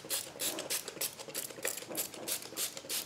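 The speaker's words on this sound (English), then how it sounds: "This is just a spray bottle with some water." A cheap handheld spray bottle misting water onto watercolor paints to wet them, giving a rapid run of short, bright hissing spritzes in a steady rhythm, close and fairly quiet, with no talking.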